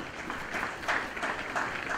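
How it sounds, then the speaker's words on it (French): An audience at an official launch event applauds, a fairly faint, steady wash of clapping hands heard from some distance for about two seconds, with no voices over it. "Sous vos applaudissements, s'il vous plaît."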